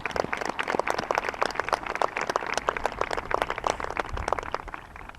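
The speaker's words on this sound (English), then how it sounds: "Let's give a round of applause for all those people." An audience at a graduation ceremony claps in a dense, steady round of applause that holds for several seconds, many hands beating fast and close together.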